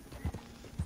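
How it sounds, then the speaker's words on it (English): Horse hooves clip-clopping at a steady riding pace in the open-world game Red Dead Redemption 2, a few soft, close thuds in quick succession. "I'm riding a horse."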